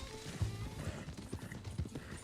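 A few-spotted Appaloosa horse in the game Red Dead Redemption 2 walks with soft, quiet clip-clopping hooves in an irregular rhythm, slightly distant and without speech.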